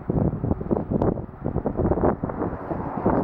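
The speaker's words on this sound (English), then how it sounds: "Boy, it's windy here. It's turned windy today." Strong wind blowing outdoors near a bridge construction site, a steady loud roar buffeting the microphone with gusty rumbles throughout.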